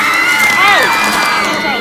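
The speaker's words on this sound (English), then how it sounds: "the crowd around her became louder and started whistling and roaring." Game crowd in Tiny Bunny swelling louder, a continuous roaring cheer with rising and falling whistles cutting through near the middle, sustained and fairly loud throughout.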